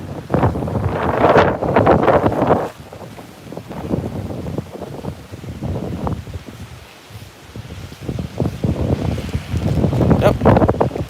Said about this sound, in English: this is the wind on the leading edge of that activity